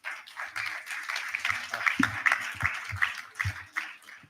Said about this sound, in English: It's like our own clap is louder than the loudest.